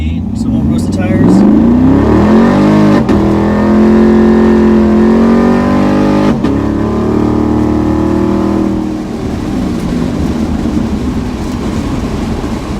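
Gen V L83 V8 swapped into a car, accelerating gently from a stop with a loud, rising engine note that climbs steadily through the gears for about nine seconds before easing to a lower cruise drone.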